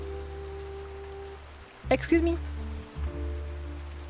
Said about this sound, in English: Boris is standing out in the cold in the rain.